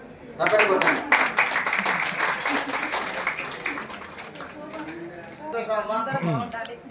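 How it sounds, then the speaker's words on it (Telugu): Applause and clapping from a seated audience at a women's day celebration for women with disabilities in an auditorium, a sustained burst of mixed clapping that rises then fades under someone speaking. "చప్పట్లో"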